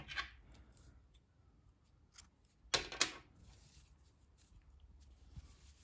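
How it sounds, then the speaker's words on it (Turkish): Scissors snip crochet yarn after a baby cardigan is finished, two sharp close cuts in quick succession amid quiet rustling handling, no talking. "İpliği kesiyorum."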